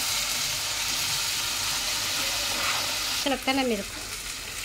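Ginger garlic paste and green chilli fry in a pot for beef biryani, a steady soft sizzle running throughout, with a brief spoken phrase near the end.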